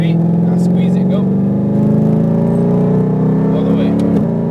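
A car accelerating on a Las Vegas racetrack, its engine a steady, close drone that climbs gradually in pitch as the throttle opens.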